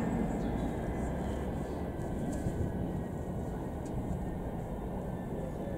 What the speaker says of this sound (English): this should be Michelle Obama arriving from America